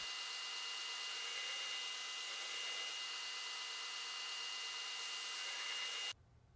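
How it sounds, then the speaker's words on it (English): An angle grinder grinds scale off a freshly struck blacksmith's touchmark impression in steel, a steady loud whine for about six seconds before cutting off abruptly. "let's grind off a little scale and see how clean that impression is"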